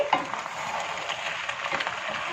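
A spoon gently stirs boiled macaroni into kofta in a hot pan, giving soft scraping and a steady sizzle with no talking.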